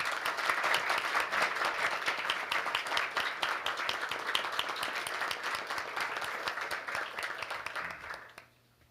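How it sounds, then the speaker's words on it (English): Loud, steady applause from the audience at a defense ministerial meeting welcoming the Korean Minister of National Defense, many hands clapping evenly for about eight seconds before fading out abruptly. "please welcome him with a big round of applause"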